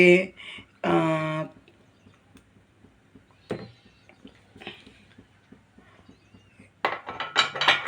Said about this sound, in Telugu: మనకు కావాల్సిన ప్లేట్లు వేసుకోవాలి.